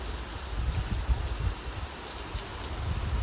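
Steady rain patters down on a surface near a bus stand at a chilli market, a dense continuous hiss with soft low thuds, no voices.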